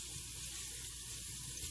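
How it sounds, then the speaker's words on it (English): Garlic browning in oil in a pot, a steady soft hiss and crackle of frying, faint and continuous with no talking. "we're going to brown our garlic"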